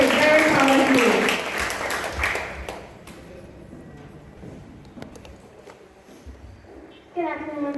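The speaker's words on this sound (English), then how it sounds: "Give us a big round of applause for Nitin Ryan." Applause from a graduation ceremony audience fades out over several seconds, leaving a quiet murmur of room noise before voices rise again near the end.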